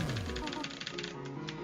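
Rapid, repeated clacking of keys mashed on a mechanical keyboard during a game speedrun, a steady typewriter-like rattle with a voice talking over it.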